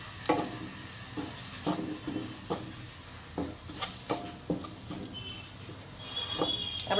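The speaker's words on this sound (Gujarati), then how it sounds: "અને ભેળવી નાખશું." A spoon stirs turmeric, salt and spices into a masala pav mixture in a pan, with soft scraping strokes and a light sizzle at a steady, unhurried rhythm, close and fairly quiet.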